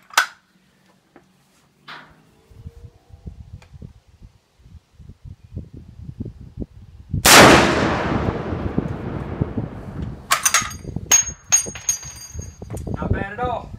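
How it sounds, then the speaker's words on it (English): A Serbu .50 BMG bolt-action rifle, fired standing with a 660-grain bullet over 215 grains of powder, lets off one loud, close blast that rolls away in a long booming echo, with voices talking before and after. "Shooting a 660 grain bullet with 215 grains of powder."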